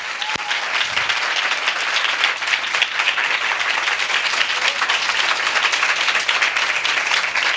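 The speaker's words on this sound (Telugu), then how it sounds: "just give big claps to the lord" A church congregation bursts into loud, sustained applause, with many hands clapping densely and continuously for several seconds, close and full, with no speech over it.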